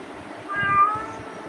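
A house cat gives a single drawn-out meow, close and clear, wanting to be let into another room.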